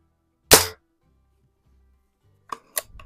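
Vintage Daisy BB gun fired once, a sharp close snap followed by silence, then a couple of faint clicks and a small crack of handling noise near the end.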